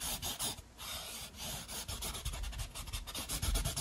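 A paintbrush scrubs paint onto canvas to rough in mountains, giving quiet, uneven bristly rubbing strokes in quick repeated bursts, close and alone.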